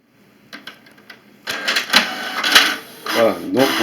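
A printer running a duplex job on the even-numbered back pages: faint clicks at first, then a louder burst of mechanical whirring and rattling feed noise, with a voice talking over part of it.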